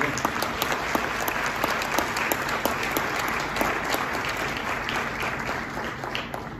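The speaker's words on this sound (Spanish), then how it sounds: "Un aplauso para ella." A conference audience at a tourism industry panel breaks into applause for a speaker, many hands clapping steadily with crisp individual claps audible, fading slightly toward the end, no voices.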